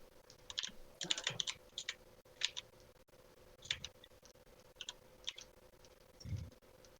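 Quick bursts of computer keyboard typing, a dice roll command being entered during an online tabletop role-playing session, clicking in uneven clusters with pauses between, close and fairly quiet.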